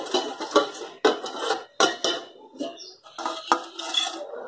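A spoon spreading a spoonful of yogurt starter around the inside of a vessel for homemade shrikhand: repeated sharp metallic scrapes and taps against the container, close and crisp, with short gaps between strokes.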